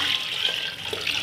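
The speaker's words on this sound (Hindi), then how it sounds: "और साथ ही इसमें डालेंगे यखनी।" Chicken stock (yakhni) is poured into a pot for Bohri chicken pulao, giving a brief, steady splashing pour of liquid heard up close, with no talking.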